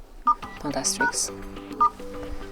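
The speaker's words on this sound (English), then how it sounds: "now we will enter the first one, which is Astrix pound 4636 pound Astrix." Keypad tones from a Motorola Moto G7 sound as a code is dialed, a few distinct beeps spaced apart, with a person talking over them.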